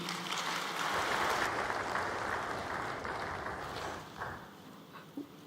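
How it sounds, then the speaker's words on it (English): Applause from a conference audience after the board chair of an anti-corruption body is introduced, a steady dense patter of many hands that swells early, holds, then thins toward the end. "Another round of applause, please."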